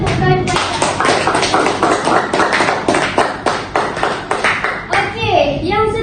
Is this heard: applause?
yes